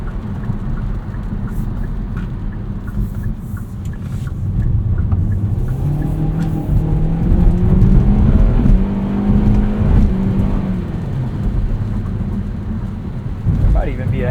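A 2023 Kia Soul GT-Line with 147 horsepower accelerates on a rainy road, its engine note rising steadily beneath heavy road and rain noise.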